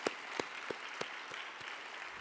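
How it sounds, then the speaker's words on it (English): Scattered claps at an honors and awards ceremony, where the audience applauds the award recipients: a handful of sharp, evenly spaced claps over a hushed room, faint and somewhat distant, with no talking. "we all can join in applauding our award winners"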